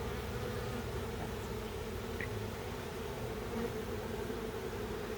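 Honeybees buzzing in an open hive holding drones and queen cells, forming a dense, continuous droning hum that holds steady and close throughout, with no talk.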